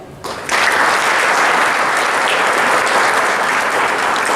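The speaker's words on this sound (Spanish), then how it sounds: "Un aplauso para el doctor Riesco." Opening-ceremony crowd at the fifth UNAH VS congress bursts into applause for a doctor: after a brief quieter moment, loud sustained clapping from many people swells in and continues unbroken.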